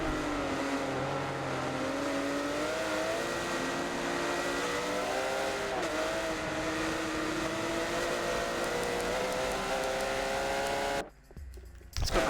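Porsche GT3 race cars in a racing video game at Virginia, engines droning and shifting pitch continuously at close range for most of the stretch, then cutting off abruptly near the end before a brief return.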